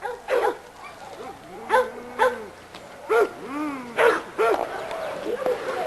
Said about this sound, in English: this is a dog called Hooten's Headhunter.